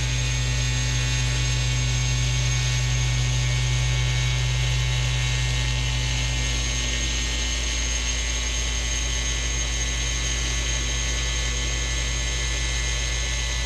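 A needle cutter machine working through a full sheet gives off a continuous, even mechanical drone with a steady electrical hum, close and unchanging for the whole stretch, with no voices.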